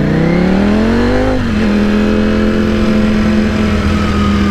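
A Ducati V4 motorcycle engine rises in a loud, close rev, then blips and drops into a downshift through the quickshifter, settling into a steady lower drone at speed.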